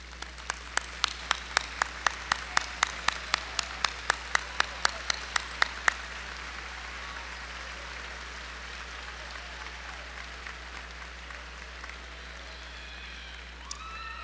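Applause for families at a fall commencement: one close clapper's crisp, regular claps stand out over a soft wash of distant crowd clapping, then the near claps stop and only a faint, fading patter remains over a steady low hum.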